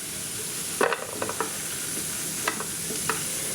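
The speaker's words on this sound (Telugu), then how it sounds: "కిస్మిస్ జీడిపప్పు బాగా వేగింది" Raisins and cashews fry in ghee with a steady, soft sizzle, broken by a few sharp stirring scrapes and clinks of a spoon against the pan, close and moderately quiet with no talking.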